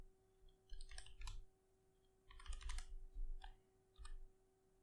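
Typing on a computer keyboard in Word, in short bursts of quick clicking keystrokes with brief pauses between, close and fairly quiet.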